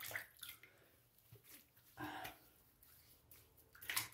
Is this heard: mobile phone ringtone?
no